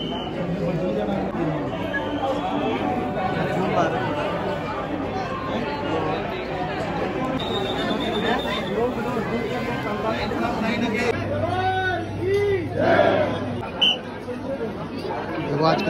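Pilgrims crowd at the Mata Naina Devi temple in Himachal Pradesh, with steady, dense chatter and babble from many voices close around, and occasional clearer nearby voices.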